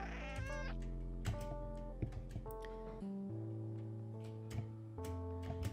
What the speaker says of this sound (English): Hit E, it meows.